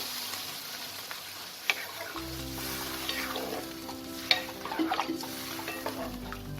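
Bengali-style bhetki fish curry gravy with potatoes and cauliflower boils in a pan with a soft, steady bubbling sizzle. It stays faint and even, with a few small clinks and no speech.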